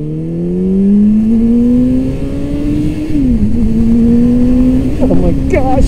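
A Suzuki Hayabusa or Gixxer motorcycle accelerating hard on the throttle along a long sweeping road, engine pitch climbing steadily, dipping briefly over a bump, then rising again, loud and close throughout.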